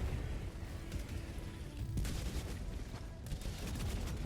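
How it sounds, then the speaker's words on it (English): Ultimatum launcher fired in Helldivers 2 against Automaton bots, a dense roar of booming shots and explosions under constant battle noise, with sharp blasts standing out near the two- and three-second marks. "Okay, so we fire off an ultimatum here"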